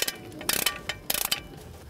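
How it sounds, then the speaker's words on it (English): A ratchet with a 12-point 19 mm socket torques flexplate bolts on a Chevy 350/383 stroker engine, giving two or three short bursts of quick metallic clicking with quiet gaps between them. "we're gonna use our 12-pointed 19 millimeter socket and torque these down to 60 foot-pounds"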